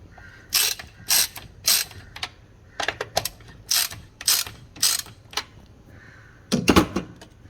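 A ratchet wrench tightens a car battery terminal, producing about a dozen sharp, close ratcheting bursts in an uneven rhythm, each one a quick run of clicks.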